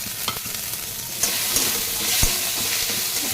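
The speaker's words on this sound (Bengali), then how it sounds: "এবার এর মধ্যে দিয়ে দেবো টমেটো কাঁচা লঙ্কাটা" Tomato and green chilli frying in a pan of fried rice for a bhindi dish, a steady close sizzle with a few sharp crackles and stirring scrapes, no voices.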